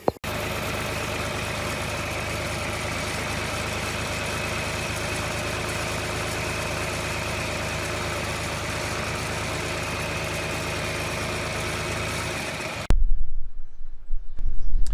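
A Massey Ferguson 135 tractor engine idles steadily and close for about thirteen seconds, a constant low throb with a mechanical hum, before a louder deeper rumble takes over at the end.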